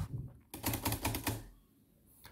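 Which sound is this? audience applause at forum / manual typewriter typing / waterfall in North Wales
manual typewriter typing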